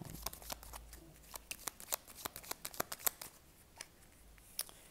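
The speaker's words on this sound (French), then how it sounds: "Alors, on va recouvrir quelques cartes hein, quand même." Tarot cards being shuffled and flipped over, a close, quiet run of crisp riffling snaps and flicks in quick irregular bursts, with no voice.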